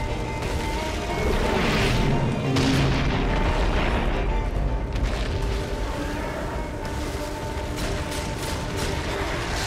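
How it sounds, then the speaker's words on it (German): A deep rumbling boom swells and lingers amid constant mechanical noise, an explosion in the video game Darksiders II that stays loud throughout. "jetzt ist das Ding hochgegangen, weil ich zu nah rankam"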